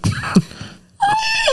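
A person imitates a horse, giving a loud, close vocal whinny with a rising and falling, wavering tone after a few short breathy sounds.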